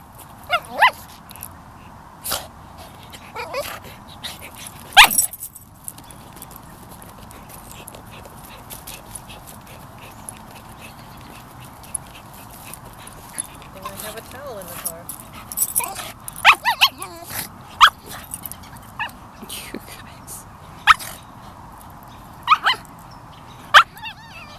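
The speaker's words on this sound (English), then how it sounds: "It's cute when they just use that soft little whimper bark." Two dogs make soft, short whimpering barks and yips in scattered bursts over a steady background, while people talk quietly and often.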